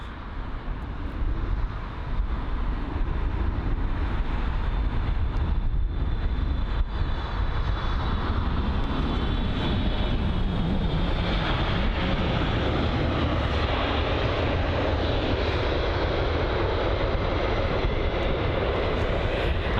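An ANA Boeing 777 airliner at London Heathrow produces a continuous heavy engine roar, loud and steady throughout, with a thin high whine across the early part.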